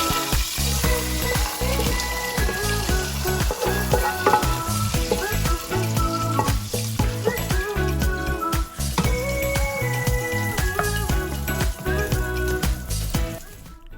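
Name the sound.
bacon frying in pot with vegetables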